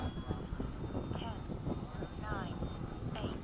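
A Freewing 90mm F/A-18 Blue Angel RC jet at a flying field gives a thin, steady ducted-fan whine in the distance, partly buried under close talking and wind buffeting on the microphone.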